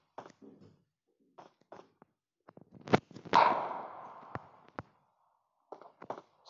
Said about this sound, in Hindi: इस तरफ से भी गोलियां चली गई